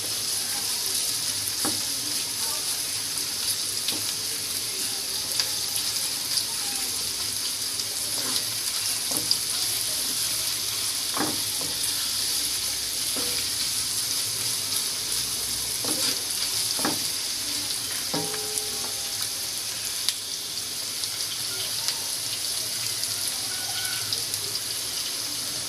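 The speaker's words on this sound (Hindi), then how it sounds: "प्याज को हम उस वक्त तक फ्राई करने जब तक कि प्याज हमारी लाइट ब्राउन ना हो जाए।" Sliced onions fry in oil in a pan for chicken biryani, cooking toward light brown. A steady, close sizzle runs throughout, with occasional scrapes and taps from stirring and no talking.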